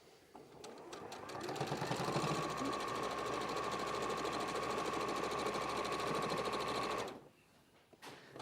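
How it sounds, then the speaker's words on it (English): A sewing machine stitches fabric in one continuous run of about five seconds, a close, steady mechanical whirr with rapid needle rhythm that starts and then stops abruptly, leaving quiet room tone. "So we're just stitching all the way down."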